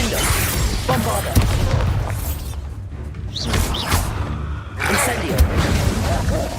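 Confringo and Bombarda spell blasts in the video game Hogwarts Legacy, a dense run of booms, crackling bursts and whooshes in combat, loud and close, with a short quieter gap midway before the explosions resume, while a voice speaks over the action.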